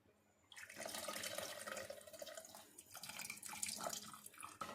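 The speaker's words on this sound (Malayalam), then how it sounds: "ഈ പുളി നമുക്ക് കറിയിലേക്ക് ഒഴിച്ചു കൊടുക്കാം" Tamarind water pours into a simmering red snapper fish curry with a soft, continuous splashing trickle. It ends with a brief clink.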